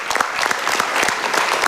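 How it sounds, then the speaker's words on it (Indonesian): Applause from an audience at a live stage show, dense steady clapping that fills the short stretch at an even level with no voices over it. "Tepuk tangan dulu boleh."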